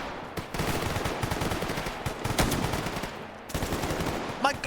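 Rapid bursts of automatic gunfire from a video game, loud and dense, stuttering in repeated volleys with a brief lull near the end.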